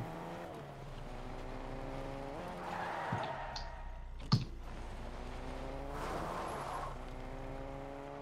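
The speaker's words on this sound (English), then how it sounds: "I'm in a car." A car driving in Fortnite, with a low steady engine drone that shifts pitch as it accelerates, a sharp knock midway and a brief skid-like swell, quiet and with no talk.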